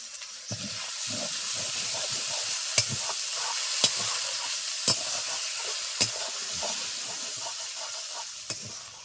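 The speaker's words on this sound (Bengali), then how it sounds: "বাটিটা ধুয়ে সামান্য একটু জল দিয়ে দিলাম" Sizzling from a hot pan as a little water from a rinsed bowl goes into a curry of potol (pointed gourd) with dahi (yogurt), a constant bright hiss broken by sharp utensil clicks and stirring scrapes, close and without talk.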